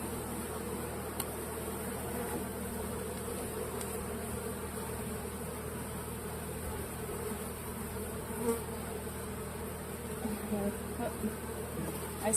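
A swarm of honeybees drones steadily around a beekeeper at an open hive, a dense, close, continuous buzz that fills the whole stretch without letting up.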